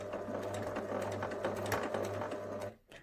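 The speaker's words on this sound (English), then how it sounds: "now we're going to sew forwards" A sewing machine runs steadily forward along the edge of fabric for a memory bear, its even motor hum and rapid needle clatter continuous and close until it stops abruptly near the end.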